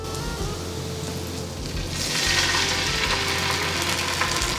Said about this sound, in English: Now I'm going to add a cup of soy sauce